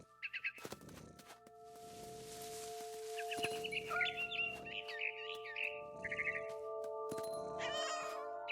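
A cat meows repeatedly in the video game What Remains of Edith Finch, several drawn-out cries close and clear over a steady tonal hum, with chirping bird-like sounds mixed in.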